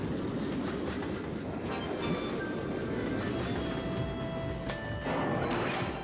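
A train rumbles along in the video game Mario Party 8, with steady rolling clatter and rhythmic clacking under bright jingles and chimes, fairly loud and continuous.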